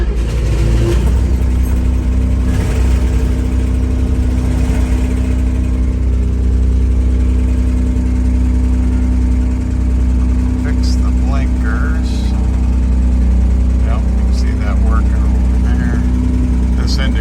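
A 1961 Chevrolet Corvair 95 Rampside pickup engine runs at a steady, loud idle throughout, with a constant low hum and faint mechanical clatter and occasional higher chirps on top.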